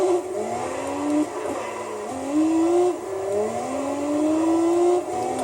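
A Nissan N1 Skyline's engine in Gran Turismo 3 drones and revs continuously, its pitch climbing and dropping repeatedly as the car drifts through slow turns, with faint tyre noise and no talking.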